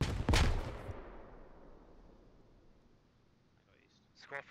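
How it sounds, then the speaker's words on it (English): A frag grenade detonates on the far side of a wall in the tactical shooter Squad, a sharp loud blast that decays into a long fading rumble, with faint clicks and noise toward the end. "I'm gonna pop this frag over this wall."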